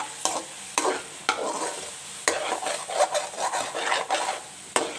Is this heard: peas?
yes